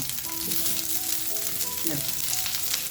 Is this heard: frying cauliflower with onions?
yes